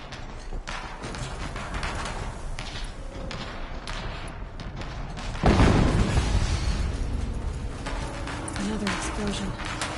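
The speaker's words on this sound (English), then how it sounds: "Another explosion." A deep, booming explosion hits midway in Horizon Zero Dawn Remastered, loud and close, with a lingering rumble under dense, busy game sound effects.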